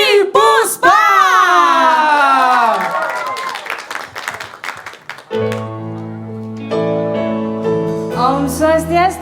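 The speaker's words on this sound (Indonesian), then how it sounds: "tolong tepuk tangan yang meriah" Audience applause and cheering ring out for a guest singer being welcomed on stage at a teen pop singing competition final in Bali, loud and crowded with whoops, then giving way to sustained music tones.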